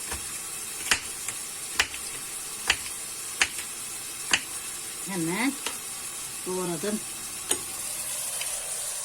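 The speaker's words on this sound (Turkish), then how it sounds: "soğanlarımız da zaten koyar koymaz çünkü çelik tencere yağ hemen kızdırdığı için hemen pembeleşmeye başladı" Chopped onions sizzle and fry in hot oil in a steel pot, a steady bright crackle running throughout with sharp stir clicks at intervals; someone speaks briefly over the frying.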